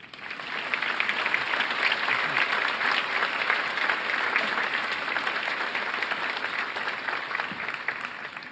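An audience at a 2023 graduation ceremony breaks into steady, sustained applause to welcome a speaker, a dense wash of clapping that holds at an even level throughout with no voices over it.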